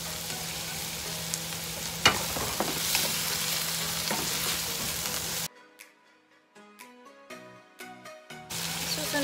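Chicken stir-frying in a hot pan for Filipino chop suey, a steady loud sizzle with scraping stirs that cuts out for a few seconds into near silence and faint clinks, then resumes.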